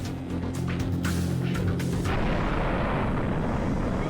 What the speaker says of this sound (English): before all that rocket fuel ignites